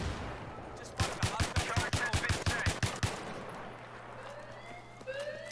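Rapid gunfire in the Battlefield 3 shooter: a fast burst of about a dozen sharp, evenly spaced shots over two seconds, fairly close, then trailing off into whizzing and ambient battlefield noise.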